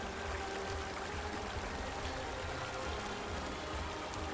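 The river at Caño Cristales in Colombia flows in a steady, faint rushing wash of water, constant and unbroken, with no one speaking.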